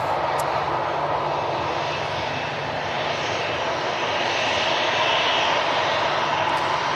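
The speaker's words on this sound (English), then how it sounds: "Ryanair just going to make the exit in front of us here" A Ryanair airliner taxis toward a runway exit at Manchester Airport, a continuous, fairly loud engine whine and broad rushing hum held steady for about seven seconds with no talking.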